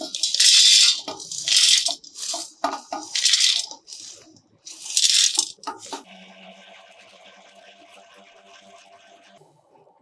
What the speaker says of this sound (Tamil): நல்ல ரூம் டெம்பரேச்சர் வந்துடுச்சு மிக்சி ஜாரில் போட்டுக்கலாம்